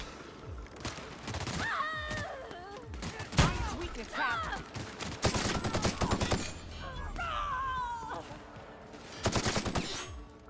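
Bursts of rapid gunfire in The Outer Worlds video game crackle in repeated volleys, with a voice talking between and over the shots.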